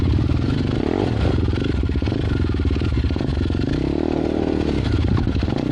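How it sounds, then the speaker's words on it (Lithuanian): Enduro motorcycles, including a KLR 250, labour over rocks on a jungle trail in Vietnam, engines chugging at low revs with a steady throbbing drone, loud and close, with clattering and scraping as tyres grip the stones. "motociklai lypa per akmenis"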